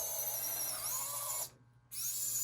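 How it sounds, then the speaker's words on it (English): Hand drill boring a hole through a small UV resin earring with gold leaf, a steady high-pitched whirring grind that cuts off briefly near the end and then resumes. "So I just take my hand drill and I'll go right about right there"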